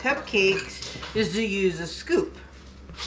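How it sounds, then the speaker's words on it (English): A dog whimpers and yips in the background of a home kitchen during cupcake baking. The faint, brief sounds sit under a person speaking loudly in the foreground. "Yep, we have a crazy dog in the background."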